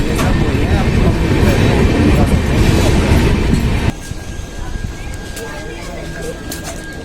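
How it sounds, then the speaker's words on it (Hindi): A train rolls into Phagwara junction with a loud rumble of wheels and carriages that drops abruptly to a quieter station hum, with a thin squeal of wheels and background voices. "सो गाइस ट्रेन अराइव हो रही है फगवाड़ा जंक्शन पर"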